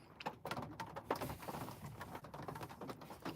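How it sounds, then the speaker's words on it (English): Rain pattering steadily outdoors in Chicago, a faint, continuous patter of small irregular taps with no voices. "It is raining here. It is raining."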